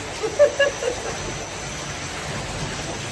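Steady rain falls outdoors, a continuous even hiss throughout, with a few faint brief sounds near the start.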